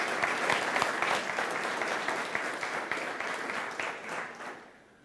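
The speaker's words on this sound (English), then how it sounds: "Please give a warm applause." Audience applauding a speaker introduced at a talk, dense even clapping that holds steady and then fades out toward the end.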